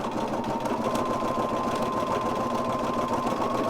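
A sewing machine stitches fabric ruffles in a steady, continuous run, its motor whirring loudly and evenly with a fast rhythmic needle chatter throughout and no talk.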